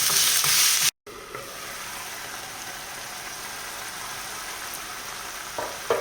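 Eggs and chicken hearts fry over medium heat with a steady, fairly quiet sizzle; a brief loud hiss at the start cuts off, and the frying continues alone.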